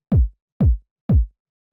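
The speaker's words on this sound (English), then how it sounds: "So what this is it's like this punchy, sort of like 909 style kick." Three punchy 909-style kick drum hits sound in an even rhythm, each a deep, tight thump with a quick pitch drop and a short decay, dry and alone.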